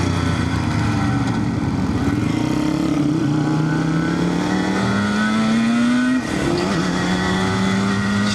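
A small motorbike ridden on back roads, its engine revving up in steady rising sweeps, dropping briefly, then climbing again, loud and close with no talk.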